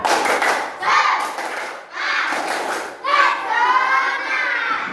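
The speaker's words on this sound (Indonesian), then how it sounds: "Tepuk semangat" Children in a classroom doing a rhythmic spirit clap, bursts of hand claps in short patterned groups mixed with young voices chanting along, close and lively, repeating in several rounds.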